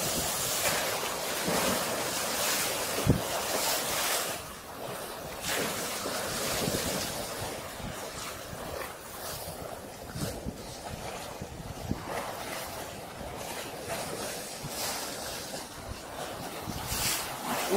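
Ocean surf churns in the distance off a beach on the Yucatán coast, a steady soft wash of waves with rhythmic swells, mixed with light wind buffeting the microphone.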